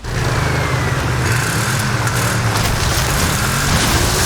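A loud, deep monster truck engine in the video game Forza Horizon 5 roars steadily with a heavy low rumble, continuous and close throughout.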